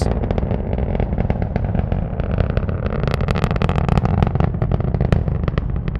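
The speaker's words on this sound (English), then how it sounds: "Let's listen to the roar of those 9 Merlin engines." Falcon 9 rocket climbing through cloud over Florida at night, its nine Merlin engines giving a loud, continuous crackling roar with rapid popping bursts, steady throughout with no talk.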